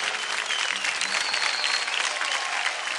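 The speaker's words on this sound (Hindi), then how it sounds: "जोरदार तालियां इन दोनों के लिए, जोरदार तालियां।" Loud, sustained clapping from a studio audience on a dance TV show, a dense even roar of hands that carries unbroken for several seconds with no voices standing out.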